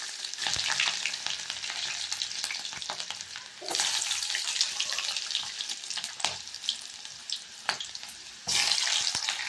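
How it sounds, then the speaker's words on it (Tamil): Mustard seeds, cumin, curry leaves and garlic fry in hot oil, a dense continuous sizzle with crackling bursts and surges as ingredients go in, close and fairly loud with no talking. "கருவேப்பிலை, கடுகு ஜீரகம் பொரிச்சுட்டு கருவேப்பிலை போட்டுக்கிறோம்."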